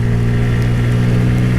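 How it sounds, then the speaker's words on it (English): A Bajaj Pulsar N160 motorcycle engine pulls hard while riding, giving a loud, close, steady droning hum that holds an even pitch throughout with no talking. "Yeah, the engine is really responsive."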